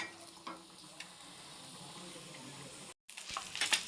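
Onions sautéing in oil on a dosa pan, a steady soft sizzle and hiss with faint stirring scrapes, broken by a brief silent gap before the sizzle returns slightly louder.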